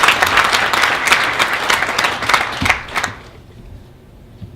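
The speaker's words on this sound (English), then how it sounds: "Give her a round of applause." A large audience applauds loudly, a dense, steady wash of clapping that tapers off and fades to near silence in the final second.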